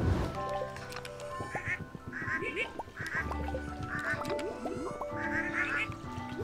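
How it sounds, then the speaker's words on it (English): Several ducks quack repeatedly in the farming video game Stardew Valley Expanded, with bursts of quacking spread across the clip over steady background game music. "Look at all these ducks."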